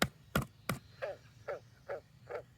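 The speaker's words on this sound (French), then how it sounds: "il y a des belles grenouilles en plus" Several frogs croak in a garden potato bed, three sharp calls up front followed by four softer, evenly spaced croaks, fairly close and with no voices.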